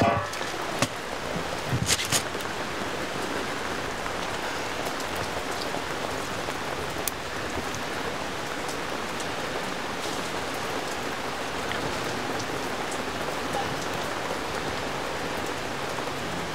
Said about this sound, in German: Ja, lieber regnet es jetzt wie später.